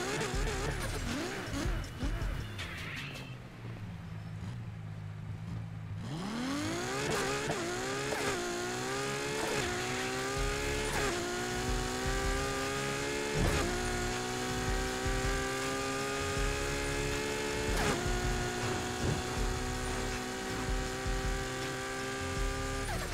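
Ferrari in Need for Speed Heat, engine roaring as it accelerates hard through a series of rising gear shifts, each pull climbing in pitch before dropping at the next shift, loud and close.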